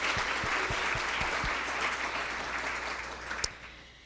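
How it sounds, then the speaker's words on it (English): An audience at an aging conference welcome address applauds elected officials with a broad, sustained round of clapping that slowly thins and fades toward the end. "Let's give them a round of applause."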